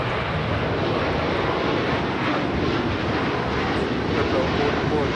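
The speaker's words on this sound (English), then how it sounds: "Qatar Airways 740 taking off to Doha on the A350 1000" Qatar Airways Airbus A350-1000 taking off at LAX, a loud steady jet engine roar that fills the whole clip without letting up, with faint radio chatter underneath.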